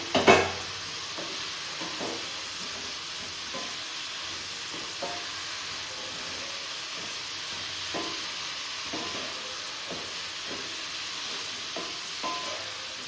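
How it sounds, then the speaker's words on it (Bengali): Fried cauliflower is stirred into a bubbling spice mix in a pan, with steady frying sizzle throughout and a clatter of the spoon at the start, then soft periodic scraping strokes. "এবার এই ভেজে রাখা ফুলকপিগুলোকেও দিয়ে দেবো একবারে।"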